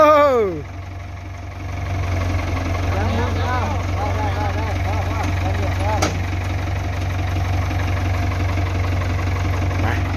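A Ford tractor engine idles loud and close in a steady, throbbing drone that holds through the whole stretch, opened by a brief falling whine.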